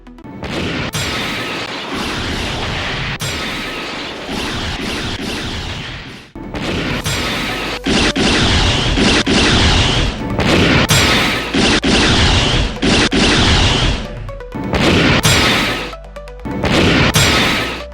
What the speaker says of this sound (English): And another short clip for using the anchor launchers.